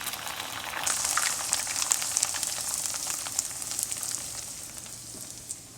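Chicken sizzles in a hot pan for an Asian chicken lettuce wrap, a steady close frying hiss with crackling pops throughout, no talking.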